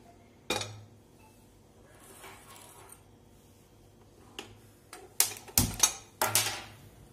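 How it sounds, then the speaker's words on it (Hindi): A metallic clunk, then a quiet pause before several sharp clanks and rattles of a metal pan being set down and shifted on a gas stove grate. "अब मैं एक पैन है वो गैस पे चढ़ा देती हूँ"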